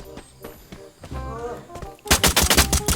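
Rapid M4A1 rifle bursts in a video game, loud clustered shots dominating the last second after quieter scattered clicks and game sounds, with voices talking over parts of it.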